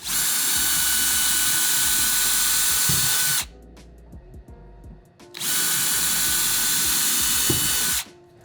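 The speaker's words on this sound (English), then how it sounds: "I will pre-drill rather than split the wood." A battery-powered drill pre-drills a hole in wood, whirring loudly for a few seconds, stopping briefly amid faint handling clatter, then whirring again in a second long burst.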